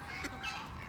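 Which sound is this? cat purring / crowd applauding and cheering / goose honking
goose honking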